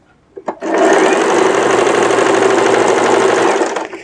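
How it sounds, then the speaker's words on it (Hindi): A sewing machine stitches strips of suit fabric in one loud, steady run of rapid mechanical chatter, starting after a couple of clicks and running about three seconds before stopping. "एक के ऊपर रख के सिलाई लगा देनी सीधी।"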